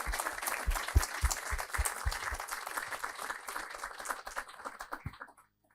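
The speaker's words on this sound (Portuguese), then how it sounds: "Pedi uma salva de palmas para ilustres conferencistas." A conference audience applauds the speakers, starting with a few distinct claps that build into steady clapping, which then thins out and stops.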